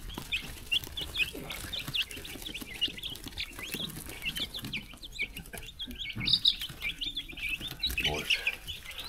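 Chickens on a farm cluck and chatter steadily at moderate distance, a busy flock with overlapping calls and faint bird chirps throughout.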